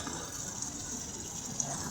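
Water gushes steadily from an opened tap through a hose pushed into a hole while repairing an electric hot water pot that won't dispense, a continuous rushing flow at moderate level throughout.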